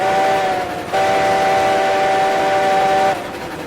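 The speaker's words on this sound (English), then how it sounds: "Give the old homestead a little whistle." Steam locomotive whistle from the RailRoads Online game, a sustained multi-tone blast lasting about three seconds over steady rolling train noise, loud and close as the engine passes a house in the woods.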